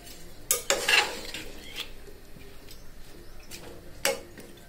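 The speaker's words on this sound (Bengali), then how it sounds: "কচুরমুখীগুলো মিক্স করে দিলাম" Taro (kochur mukhi) is stirred in a cooking pot beside hilsa fish head and tail, a quiet scraping with a few sharper knocks of the spoon against the pot over a soft sizzle.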